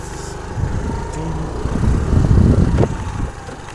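A scooter engine drones while riding through the Mustang region of Nepal, a loud, rough low rumble mixed with wind buffeting that swells slightly partway through.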